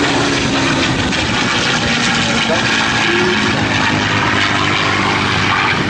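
A warbird propeller aircraft engine drones loudly and continuously at an airshow, a rough throbbing roar close by, with faint voices mixed into the noise.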